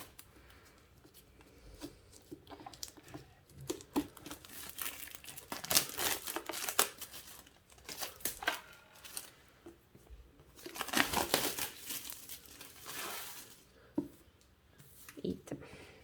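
Crinkling and tearing of packaging as a wrapped book is opened, irregular bursts of crumpling plastic or paper close up, louder around the middle and again near the end, with no talking.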